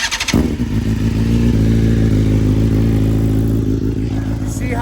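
A 2024 BMW S1000RR with a stage 1 tune cranks briefly, then fires and settles into a loud, steady, low idle close by without climbing in revs.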